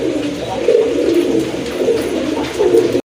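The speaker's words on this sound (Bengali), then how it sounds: "এখানে আরেক জোড়া কবুতর দেখেন" Pigeons at a market stall selling domestic and fancy breeds coo in low, throaty, rolling phrases, repeated several times close by and loud, with no talking, before cutting off abruptly.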